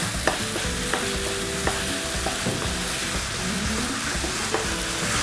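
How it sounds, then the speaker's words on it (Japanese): Ingredients for chili nachos stir-fried in a pan, a steady close sizzle with repeated scraping and stirring clicks of a utensil throughout, no voices. "さあしっかり炒めますよ。"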